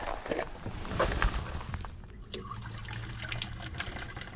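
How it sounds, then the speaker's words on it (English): Water from a village tap in eastern Turkey runs and splashes steadily outdoors, a broadband gush with some clatter and faint background activity. "We've got a tap."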